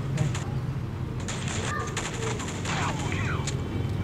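Rapid P90 submachine-gun bursts in the Vietnamese online shooter Tập Kích, crackling as dense repeated shots over a steady low game rumble, with a player's voice talking throughout.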